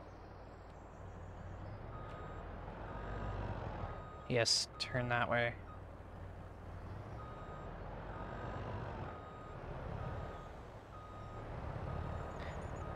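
A truck's reversing beeps in the farming video game Farming Simulator 22 repeat steadily under a low engine rumble, while someone talks over the game audio.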